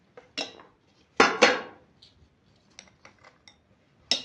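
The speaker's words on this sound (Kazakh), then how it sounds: "Мұздың барлығын сала қой." Ice cubes dropped one after another into a small tin bowl, sharp clattering clinks in separate bursts with quiet gaps, close by.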